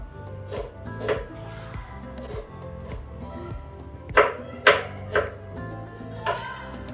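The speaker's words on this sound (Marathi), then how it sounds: "कांदा आहे ना थोडासा असा बारीक काटून घ्यायचा एकदम." Knife chopping onion finely on a board, a series of moderate close taps at an uneven pace with a few sharper louder strikes near the end, over faint kitchen background.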